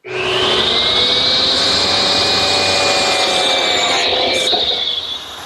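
A biscuit joiner cutting slots in mitered frames of 2 1/4 by 3/4 inch wood stock, one loud, close high whine that spins up sharply, holds steady for several seconds, then dips as the cut finishes.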